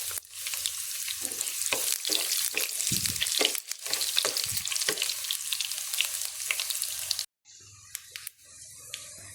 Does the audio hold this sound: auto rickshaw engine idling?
no